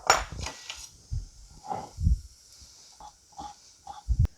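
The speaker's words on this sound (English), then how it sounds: "I'm going to take my fish and my shrimp, and I'm going to go ahead and chop it up into kind of like bite-sized pieces." A knife chops fish and shrimp into bite-sized pieces on a board for a seafood stew, giving a series of close, uneven thuds and knocks with short gaps between them.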